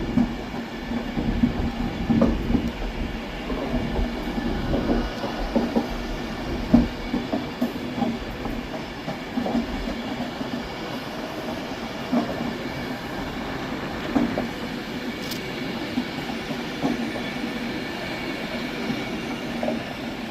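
Class 390 Pendolino electric passenger train 390128, City of Preston, on a Glasgow Central to London Euston service, rolls through Carlisle station with a steady rumble, rhythmic wheel clicks and occasional faint squeals, moderately near and without talk.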